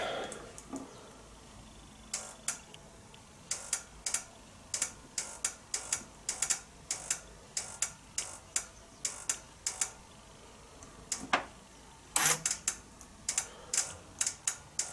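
Nissan transmission PC solenoid A under test with the black wire, giving bursts of crisp close ticks in uneven groups with short gaps and one louder click near the end, over a low steady background.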